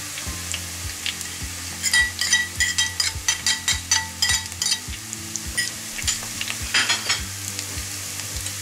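Garlic and ginger fry in a hot pan with a steady sizzle. A spoon stirs and scrapes in quick clinking strokes, loudest in a rapid burst midway, and nobody talks.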